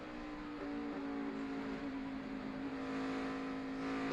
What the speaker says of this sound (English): you can hear him working that throttle too, going through turn 3